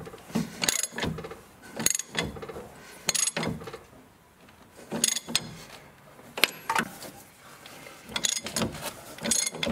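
A hand ratchet turns a bolt into the steering knuckle of a 2007 Chevy Equinox during front strut installation, giving repeated close bursts of rapid clicking with short pauses between strokes.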